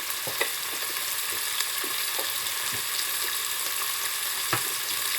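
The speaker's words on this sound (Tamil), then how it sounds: "வெங்காயம் நல்லா வதங்கி கொண்டிருக்குது அடிக்கடி கிளறி விடணும்" Chopped onions with salt sautéing in a pan for tomato rice, a steady close sizzle with intermittent scraping stirs of a spoon against the pan.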